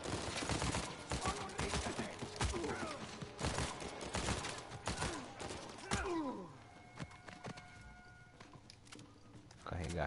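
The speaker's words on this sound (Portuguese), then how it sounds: "Estão metendo tiro de bazuca." Intense gunfire and bazooka blasts erupt in the action game Uncharted 4, a dense, rapid barrage of loud shots and booming impacts that thins into scattered pops and ringing tones toward the end.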